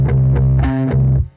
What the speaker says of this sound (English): used UAD's raw stomp box for extra distortion